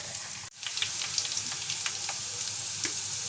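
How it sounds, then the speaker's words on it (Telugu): Sliced ivy gourd (dondakaya) fries in oil with a steady, close sizzle and scattered crackling pops, after a brief dropout near the start, with no voices. "ఆయిల్, దొండకాయలు మంచి కలర్ వచ్చేంత వేయించుకోవాలి."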